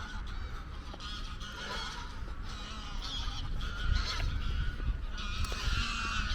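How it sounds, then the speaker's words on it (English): A large flock of geese honks continuously at a boating lake, a dense, loud chorus of overlapping calls that swells slightly toward the end, with no talking. "and the geese, if you can't already hear them."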